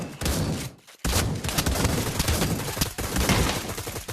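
Heavy gunfire in the Pavlov VR video game, a near-continuous loud barrage of shots broken by one short silent gap early on.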